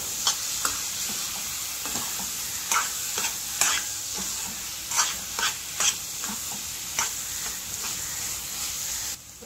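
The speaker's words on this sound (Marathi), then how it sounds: "छान असा चरचर आवाज येतो म्हणजे आपला हलवा रेडी आहे" Carrot halwa with dry fruits and mawa sizzles in a pan while a spoon stirs it, sharp scraping clicks and crackles recurring every half second or so over a soft continuous fry.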